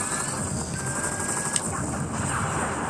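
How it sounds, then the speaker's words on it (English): Video-game gunfire from Viewtiful Joe, a rapid stream of bullets heard as fast, rattling shots at moderate volume with a brief sharper crack partway through. "that actually stops it from shooting that big old stream of bullets at you"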